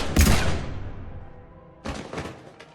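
Gunfire bursts in the sci-fi shooter Mass Effect 3 on PC: a loud, sharp blast that decays over about a second, then after a pause a second cluster of rapid shots, with no voices over it.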